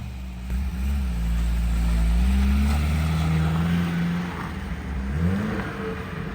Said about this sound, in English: it's kind of cool to hear the turbo spool